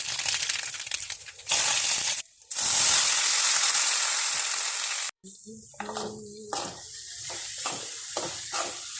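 Tapioca being stirred into hot oil with popped mustard seeds for a Kerala-style thoran: loud, steady sizzling frying in two long stretches, then lighter scraping and clattering stirring strokes in the pan.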